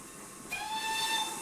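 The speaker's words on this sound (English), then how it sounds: "Oh, I love the sound of that whistle." A steam whistle sounds with a sudden hissing onset, then holds a steady, fairly faint high tone over a breathy hiss until the end.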